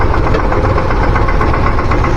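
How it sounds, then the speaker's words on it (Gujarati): A diesel tractor engine idles steadily close by, a continuous, rough rumble with a faint knocking pulse and no pauses or voices. "ફાઇનલી મિત્રો ટ્રેક્ટર આપણું ચાલુ થઈ ગયું"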